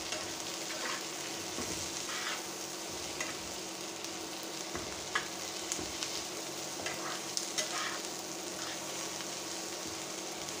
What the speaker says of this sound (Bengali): এখন সব একসাথে ভেজে নিব।